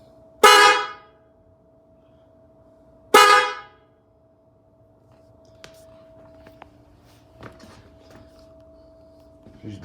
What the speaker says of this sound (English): This should be all 3 horns.